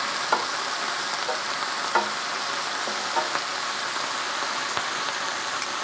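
Ribs pan frying in oil for Chinese-style pan fried ribs, a steady loud sizzle throughout with a few soft clicks and spatters, no talking.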